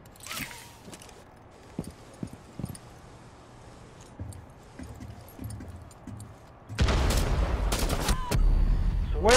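Gunfire in Rainbow Six Siege, scattered sharp game shots and mechanical clicks at moderate level, then a loud sustained burst of rapid fire in the last few seconds.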